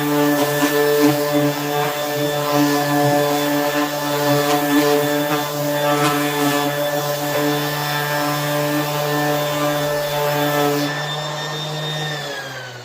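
Wood panels are sanded with 150-grit paper under a steady, droning power-sander motor hum, with a faint scratchy rasp on top. It runs close and unbroken for about eleven seconds before the tone drops as the tool winds down.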